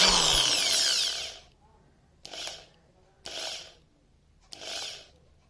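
A Black & Decker 550W reversible hammer drill whirs up close, first in one longer run and then in three short spins, each separated by a quiet pause.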